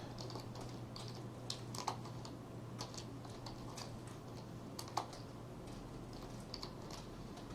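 Someone typing on a computer keyboard, a quick irregular run of light clicks and taps with a few sharper keystrokes, close and alone over a faint steady hum.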